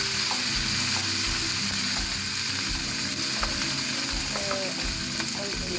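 Crushed garlic and curry leaves frying in hot oil for a bean dish, giving a steady, dense sizzle with light crackles throughout and no voices.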